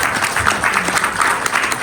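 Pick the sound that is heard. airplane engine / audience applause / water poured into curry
audience applause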